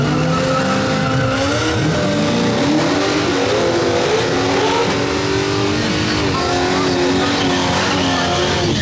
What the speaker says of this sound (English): C6 Corvette.